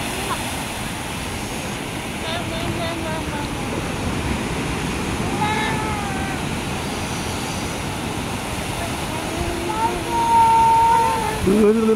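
Sea waves breaking on the shore make a broad, continuous rushing roar that swells a little midway and near the end, with voices speaking briefly over the surf.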